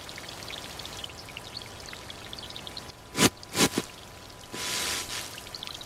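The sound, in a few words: heavy rain falling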